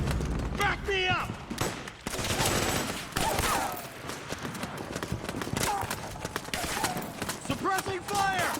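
Rapid bursts of gunfire crackle through a firefight in the video game Metal Gear Solid 4, mixed with loud shouting voices and busy combat effects throughout.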